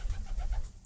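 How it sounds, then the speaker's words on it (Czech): Pigeons cooing inside a pigeon loft where racing pigeons nest and sit on eggs, a low, soft murmuring of several birds close by, steady and continuous without any talking. "Tohleto je první letošní holubě"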